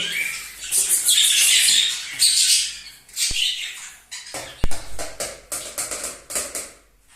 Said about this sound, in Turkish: Kuşları susturmakla uğraşıyorum.